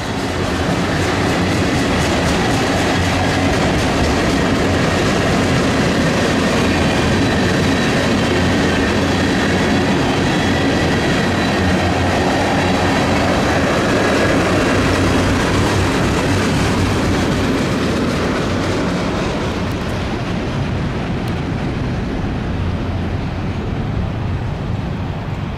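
A freight train led by locomotive 3159 rolls past at night in Central Florida, a loud continuous rumble with rhythmic clickety-clack of wheels over rail joints that eases off near the end.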